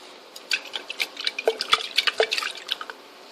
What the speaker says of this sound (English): I'm taking some liquid and pouring into the jar so that I can use it to rinse the jar.